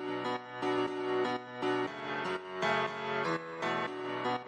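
Synth sound with an echo effect, several bright rhythmic chords repeating in steady bursts with trailing repeats filling the gaps, moderately quiet and with no talk over it.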